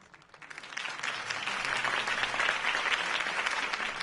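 Crowd applause after a campaign speech swells up from quiet into a steady, full roar of clapping that holds for several seconds.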